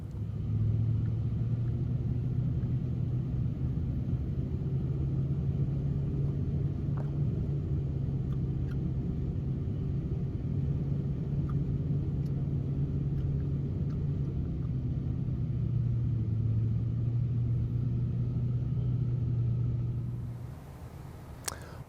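A GMC motorhome drives along the road, its engine and tyres making a loud, steady low rumble that fades out at the end.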